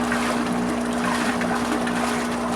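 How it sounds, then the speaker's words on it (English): An aerator bubbles steadily in a 50-gallon compost tea brewer, giving a continuous, close watery fizz and gurgle. "it's also bubbling up from the bottom"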